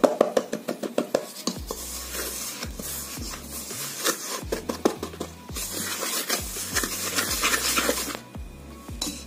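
A batter of oat and brown rice flour is stirred for a low-calorie cheesecake. Quick, rhythmic scraping strokes and clinks of a utensil against the bowl sound close, over a faint low hum.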